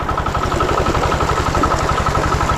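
An engine runs steadily, a loud close rhythmic chugging with even pulses throughout and no talk.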